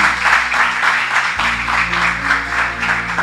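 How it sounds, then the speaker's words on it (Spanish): A church congregation bursts into strong, sustained applause, many hands clapping at once in a dense, rhythmic wash that fills the room, with a low hum from the sound system beneath. "le vamos a dar un fuerte aplauso"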